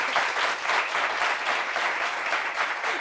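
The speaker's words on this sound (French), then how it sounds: "On applaudit pour lui." A studio audience on a French talk show applauds a newly welcomed guest, with dense, even clapping held loud and steady, slightly pulsing, and no voices over it.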